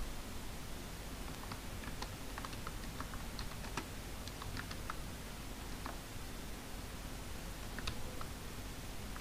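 Keystrokes on a computer keyboard as a command is typed, a steady run of quick, light clicks in irregular bursts over a constant background hiss, with no talking.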